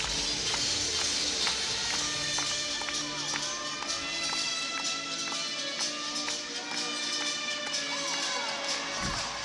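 A crowd cheers loudly for a gymnast's Shushunova leap at an Oklahoma at Arkansas gymnastics meet, with continuous roaring and shouting over music that holds throughout.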